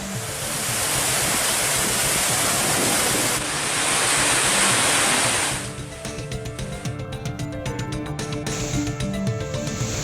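Suruli waterfall near Kambam in Theni district, flooding after heavy rain in the Western Ghats, roars as a loud, steady broadband rush of water, heaviest for the first six seconds before easing into a softer, uneven churn.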